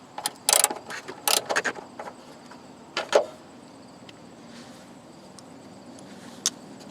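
A ratchet works a 10 mm bolt loose on a Jeep's filter, producing a few sharp clicking bursts up close, then quieter scattered mechanical taps over a low background hum.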